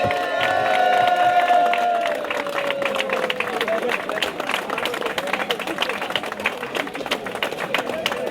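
A crowd applauds and cheers for swimmers of a swimming club after they swim across the Periyar river. Steady clapping and shouting continue throughout, with a whistle-like tone early on and voices mixed in.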